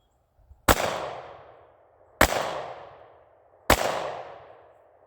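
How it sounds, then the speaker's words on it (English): Sig P365 pistol fired three slow rounds at a target, each sharp loud crack followed by a ringing outdoor echo, evenly spaced about one and a half seconds apart. "let's just start with about 3 rounds slow fire,"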